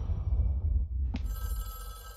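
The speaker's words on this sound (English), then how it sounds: "Oh, it's a phone call." A telephone rings once in Fortnite, a short bright ring that cuts across a low rumbling game background and then gives way to a steady electronic tone.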